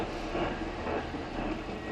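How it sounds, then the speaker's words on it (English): A Long Island Rail Road freight train rolls past as a steady, loud rumble with a broad rattling wash of wagon noise that holds constant for the whole stretch, with no voices over it. "That's the Long Island Railroad you're hearing, and we can't fight that sound, so we're going to let it pass by."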